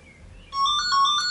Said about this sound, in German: Telefon im Hintergrund